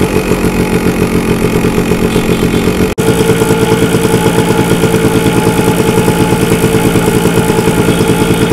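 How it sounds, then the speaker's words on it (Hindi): A two-stroke motorcycle engine is kicked into life and keeps running loudly up close, a rapid buzzing idle with a brief cut near three seconds before it settles into steady chugging again. "स्टार्ट मारो बाइक को।"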